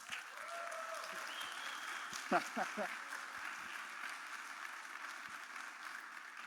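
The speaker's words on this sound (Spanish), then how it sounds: "Un aplauso para Rina, por favor." Conference audience applauding a speaker, a soft wash of clapping from a seated crowd, distant and fairly faint, with a voice and a few sharper claps briefly rising above it.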